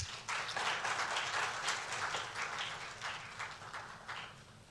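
An audience at a Ghana swearing-in ceremony for new security chiefs claps in sustained, fairly even applause that fills the whole stretch and eases off slightly toward the end.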